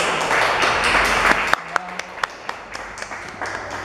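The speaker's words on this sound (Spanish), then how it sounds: "démosles un aplauso a David Soto, por favor" An audience claps loudly for poet David Soto at an erotic poetry reading; dense applause fades after a second and a half into scattered single claps.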